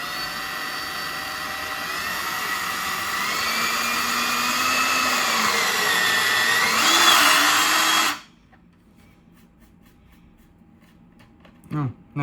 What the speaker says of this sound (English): I'm just going to first test out a small screw, just putting it in.